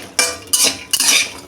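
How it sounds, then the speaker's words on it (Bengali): A metal utensil scrapes and stirs garlic and green chili frying in a pan, four quick strokes close up, with a bright sizzling rasp and no talking. "ভালো করে নাড়িয়ে ভেজে নেব।"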